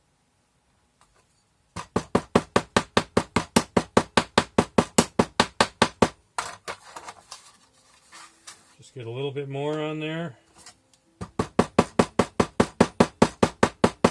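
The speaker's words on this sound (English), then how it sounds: "Hammer that down really good. Make sure it packs around." Two runs of quick, steady hammer blows packing Petrobond sand into a casting mold, about a dozen or more strikes each, separated by a short stretch of talking and a brief scraping sound.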